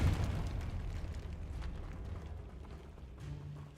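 A Confringo spell in a Harry Potter video game, maxed graphics settings, sets off a deep rumbling blast that booms at the start and rolls on as a low, churning roar for several seconds.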